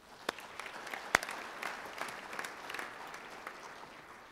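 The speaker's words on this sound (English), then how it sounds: "If we give them a round of applause as well" Applause from an audience at an annual meeting, a moderate spread of scattered clapping with a couple of sharper claps, fairly faint and fading toward the end.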